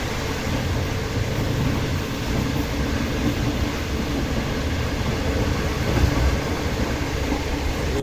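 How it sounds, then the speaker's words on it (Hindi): Pak Business Express train running, heard from inside a new AC standard coach on the Lahore to Karachi route: a steady, continuous rumble and rail noise at an even level throughout, with no talk. "बहुत ज़बरदस्त जा रही है भाई ट्रेन"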